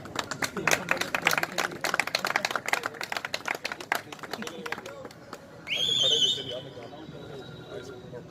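Audience applause at a Rajasthan pigeon tournament award ceremony: a crowd claps briskly for about five seconds, then the clapping thins out as a shrill whistle sounds and a voice talks over it.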